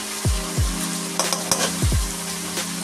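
Chicken curry with ground cumin sizzles loudly in a pan: a constant close frying hiss with several sharp metallic scrapes and clinks from stirring spread across the few seconds.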